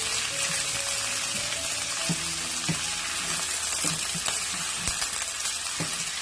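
Chopped ginger and garlic are mixed into meat frying in oil for a Pakistani turai gosht, with a steady background sizzle, intermittent spatula scrapes and a low hum, close and quiet, without speech.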